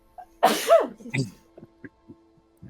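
A single sharp sneeze up close, followed by a few soft, faint sounds in a quiet room.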